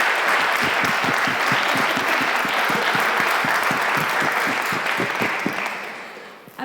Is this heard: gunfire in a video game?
no